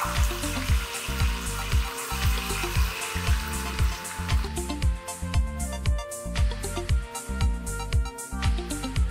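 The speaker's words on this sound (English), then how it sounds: "Now we are adding the paste to the hot oil and cook until it's golden brown." A ginger-onion paste for home-style chhole fries in hot oil, loud and close, a busy crackling sizzle pulsing with rhythmic stirring, with no one talking.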